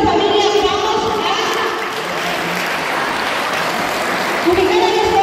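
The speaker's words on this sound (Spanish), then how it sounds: "fuertes aplausos, padres de familia" Parents applauding at a school family-education gathering, a broad, steady wash of clapping that holds evenly, with children's voices faintly mixed in and a voice rising at the end.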